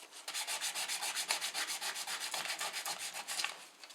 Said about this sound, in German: Die Anlageflächen hier könnt ihr jetzt mit ganz feinem Schleifpapier, ich glaube Porsche schreibt sogar 120er